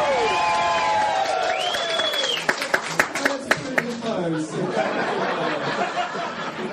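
Comedy-show audience cheering and clapping after a host calls for votes, a brief burst of claps and laughter mixed with voices.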